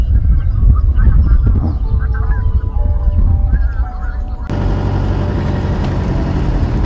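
Geese arriving in spring honk in a loose series of calls over an outdoor rumble, fairly close at first, then overtaken by a steady broadband noise.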